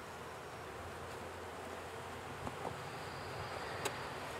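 Honey bees buzz inside an opened hive with drawn comb during a beekeeping class in Swanzey, New Hampshire: a faint, steady low hum with a few light knocks and no talk.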